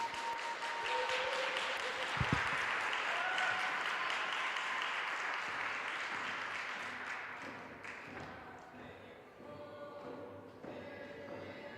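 Audience applause following a song performance at a university event in Alaska, steady sustained clapping from a crowd heard at a distance, gradually thinning toward the end.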